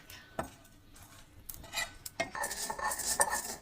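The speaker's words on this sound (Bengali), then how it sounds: "এবারে শুকনো কড়াইয়ে তাওয়াতে নেড়ে নেব" Whole spices for a fish curry are stirred in a dry wok, with a spatula scraping and clattering against the metal. The scraping is sparse at first, then becomes a denser, steadier rattle in the second half.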